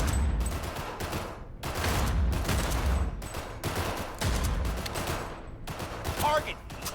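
Rapid gunfire at a shooting range in the video game Cyberpunk 2077 Phantom Liberty, a steady run of loud overlapping shots and bursts filling the whole stretch, with voices talking over it.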